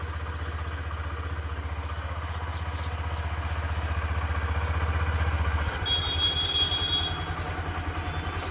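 A car engine idles steadily while warming up on a farm morning, a low continuous drone close by with a faint rattle, shifting slightly in tone near the end, with no talking.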